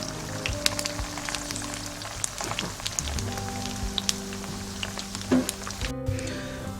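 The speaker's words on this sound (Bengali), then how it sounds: "সো মিডিয়াম টু হাই হিটে আমরা এটা লাল লাল করে ভেজে নিব।" Doi bora frying in oil over medium-high heat makes a dense, crackling patter of bubbling spatters, steady and close, with a low hum running underneath.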